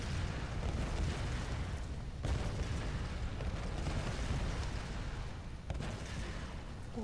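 Continuous loud rumbling blasts and booming explosions in the video game Tomb Raider, dense and unbroken, with a couple of sharper hits standing out.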